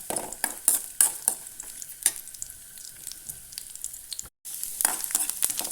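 Grated coconut being stirred and fried in a pan, with a steady close sizzle broken by irregular scraping strokes of a spoon and a brief dropout near the end.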